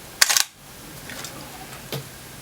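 A Sony A7II camera shutter fires in a quick mechanical burst, followed by a single fainter click about a second and a half later, close up.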